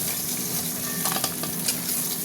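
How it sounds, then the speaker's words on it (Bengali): Three pieces of fish frying in oil in a pan, a steady close sizzle with a few crackling spatters and stirring, no voices. "আবার 3 পিস মাছ ভাজা হতে থাক"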